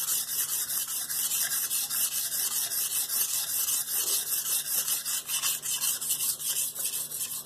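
A knife edge is drawn repeatedly across a low-grit whetstone under light pressure, a continuous rhythmic scraping rasp of strokes in close succession, close and steady with no talking.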